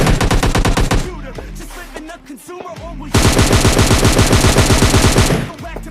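Rapid SCAR assault rifle fire in a shooting video game, loud sustained bursts of closely spaced shots, a pause with scattered clicks and shots, then another long continuous burst.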